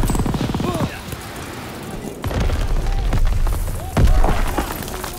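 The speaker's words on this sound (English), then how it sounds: "Let's see if I can toss a grenade in the window." A grenade goes off in the Call of Duty WWII D-Day campaign, a heavy booming burst followed later by a second, louder low blast, set among busy battlefield noise with a voice present.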